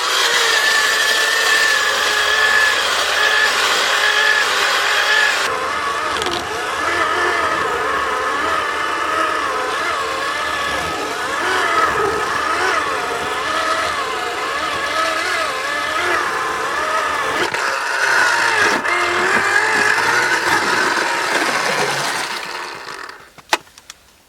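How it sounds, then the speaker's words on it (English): A hand-operated or battery ice auger boring a hole through thick lake ice while ice fishing in cold, snowy weather, giving a long, steady grinding whir that ends with a few knocks and clatters. "It's not the fastest auger in the world, but it drilled one more hole than my gas one did"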